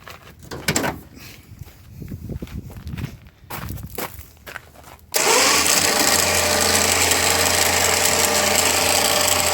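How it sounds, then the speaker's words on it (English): An electric winch pulls a Subaru Forester with a 2.5 liter boxer engine off a trailer. Footsteps and clanks come first, then the winch motor starts abruptly with a loud, steady whine and hum nearby. "I'll use the winch and let gravity help us get the car off the trailer."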